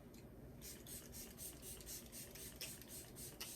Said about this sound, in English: I'm gonna spray it just a little bit